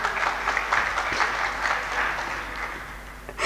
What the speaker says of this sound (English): Des applaudissements pour vous.